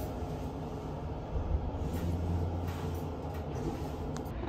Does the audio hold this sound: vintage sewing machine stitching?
no